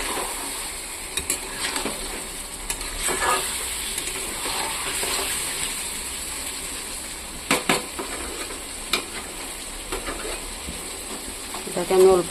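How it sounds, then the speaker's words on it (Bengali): Bottle gourd and potato frying in a pan with spices, a low steady sizzle broken by intermittent clinks and scrapes of a utensil against the pan. "এটাকে আমি অল্প ভাজা ভাজা করবো,"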